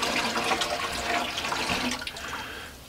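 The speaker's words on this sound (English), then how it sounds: "just start pouring the rest of the water" Water is poured from a bucket into an aquarium tank as part of setting up a saltwater system, making a steady splashing gush that tapers off near the end.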